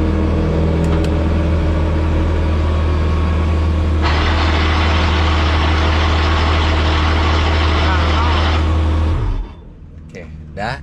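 Race car engine started on the crank with the clutch and left idling, a loud close steady low rumble that sharpens midway and then cuts off near the end.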